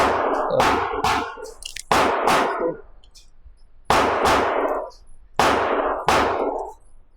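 A Sig Sauer P211 GTO all-metal-frame pistol fires sharp, loud shots with ringing decays at an outdoor range, spaced one to two seconds apart, with a few quicker follow-up shots.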